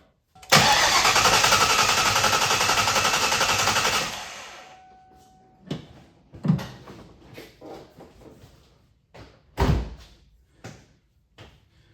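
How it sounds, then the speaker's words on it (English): 1997 Mustang Cobra engine cranking over during a compression test, a loud steady whirring of the starter for about four seconds, then stopping, followed by scattered clanks and knocks of shop work. "let's try turning the motor over and see what kind of compression we have in cylinder number 1"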